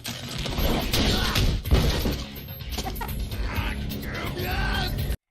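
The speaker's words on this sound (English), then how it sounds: "He just power slammed that guy into a wall." In a fight scene, a man is power slammed into a wall: a loud crash and shattering burst lands partway through amid noisy action, followed by scattered clattering and vocal sounds.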